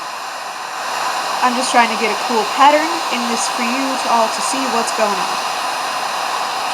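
A heat gun melts red and gold sealing wax with a steady, close-up blowing roar that runs throughout while a person talks over it.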